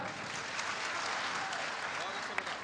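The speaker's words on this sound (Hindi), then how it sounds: "जोरदार तालियां।" Loud, sustained applause from the audience at a Hindi kavi sammelan poetry gathering in Burhanpur, a dense continuous wash of clapping at steady volume with faint voices mixed in.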